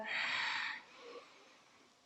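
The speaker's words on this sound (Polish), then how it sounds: "I weź spokojny wdech" A calm, deep breath drawn in during a guided morning relaxation exercise, a soft airy rush up close that swells for under a second and then fades into quiet.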